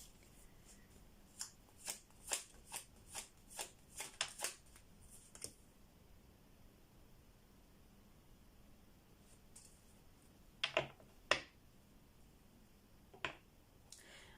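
Tarot cards shuffled close by in a quiet room: a quick run of crisp riffling flutters and slaps in the first half, a pause, then a few more scattered bursts of shuffling near the end.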